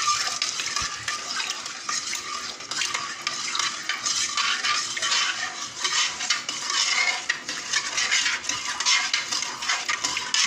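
Salt stirred in a bowl of water until it dissolves, a steady scraping swirl that runs continuously and fairly close throughout, with no voices.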